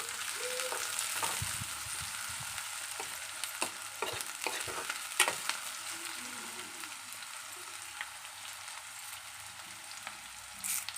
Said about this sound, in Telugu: ఆనియన్ వేసుకుందాం. కొంచెం కలుపుకోవాలి.